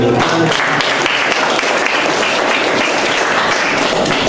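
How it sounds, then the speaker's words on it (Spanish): Church congregation breaking into loud, sustained applause and clapping that fills the room evenly throughout, with a few voices mixed in. "un voto de aplausos"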